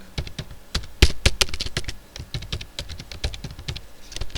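Computer keyboard typing CSS code, a rapid uneven stream of crisp key clicks, close and fairly loud, continuing throughout with brief pauses.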